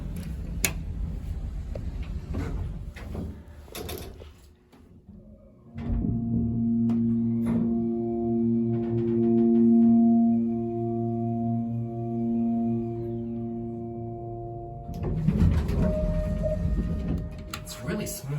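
Loud Otis hydraulic elevator at 631 Saw Mill River Road in Ardsley, NY, running with a steady, tonal motor drone for about nine seconds, with people talking before and after it.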